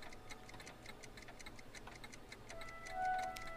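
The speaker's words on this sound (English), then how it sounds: "All of the clocks, including the Felix the Cat clock." Several clocks tick steadily together in a Back to the Future video game scene, a quiet, regular mechanical ticking with a faint tonal hum rising briefly near the end.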